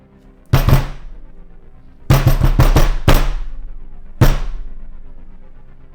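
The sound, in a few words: thump on the other side of a door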